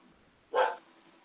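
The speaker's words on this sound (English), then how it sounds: "I gotta see what the dog is barking about." A single short dog bark, fairly close and clear, rising out of a quiet room and fading quickly.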